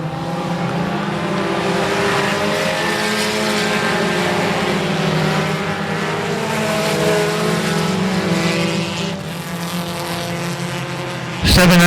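Race cars roaring around the I-37 Speedway oval, a sustained loud engine drone that swells and shifts as the pack passes, with a sharp burst right at the end.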